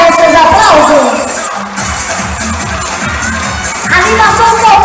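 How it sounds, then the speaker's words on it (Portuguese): A circus audience in Palmeira dos Índios shouts and cheers loudly around a children's tower act, with children's voices rising out of the crowd noise and a loud, steady, dense din throughout. "Já merece seus aplausos."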